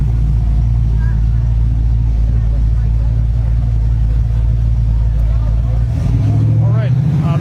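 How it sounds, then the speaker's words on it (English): Steady low traffic rumble fills an outdoor park during a protest at a veterans memorial, loud and continuous, with a passing vehicle swell near the end. "There is some traffic noise here."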